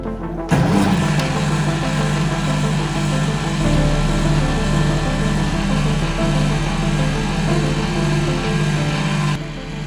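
An electric motor driving an alternator generator starts up abruptly and settles into a loud, steady whirring hum with a constant mechanical drone, running close by for several seconds before cutting off.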